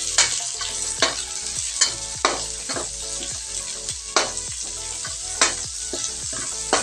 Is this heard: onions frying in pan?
yes